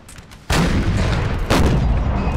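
Canister shot artillery fires in Napoleonic: Total War as two loud, close booming blasts about a second apart, each cracking sharply and then rumbling with a heavy sustained tail.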